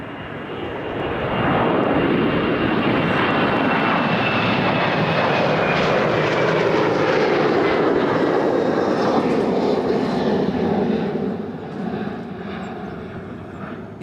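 A regional jet airliner, an RJ, approaches and lands at Toronto Pearson Airport on runway 06 left. Its engine roar builds quickly and holds loud and steady near overhead, then eases slightly toward the end.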